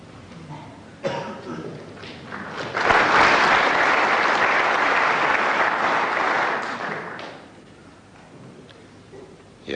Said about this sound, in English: applause there for a very good break by Alex Higgins